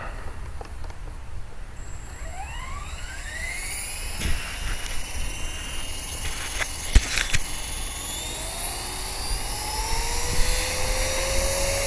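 A 450 Pro RC helicopter with a Turnigy 2218 motor flies nearby, its whining rotor and motor pitch swooping up and down as it maneuvers, with a few sharp knocks partway through.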